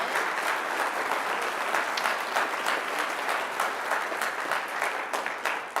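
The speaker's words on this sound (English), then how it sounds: "let's give her another round of applause" Audience at a high school midwinter band concert clapping steadily and densely, a sustained wash of applause from a large crowd that holds at full level throughout.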